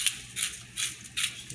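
Black peppercorns ground in a pepper mill while making arancini rice balls, four short crunchy grinding bursts in an even rhythm, close and fairly quiet, with nothing else in between.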